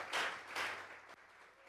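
A church congregation gives a round of applause during a Spanish-language worship service, two loud bursts of clapping close together that fade into a quieter room.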